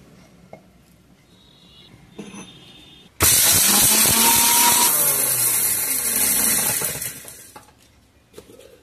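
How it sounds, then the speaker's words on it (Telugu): A kitchen mixer grinder whirs loudly and rattles as it grinds cumin seeds and black peppercorns, starting abruptly after a quiet stretch, running steadily for several seconds, then winding down. "మిక్సీలో జీలకర్ర, మిరియాలు వేసుకొని మొత్తం ఒకేసారి వేస్తే మిరియాలు నలగవు మిక్సీలో"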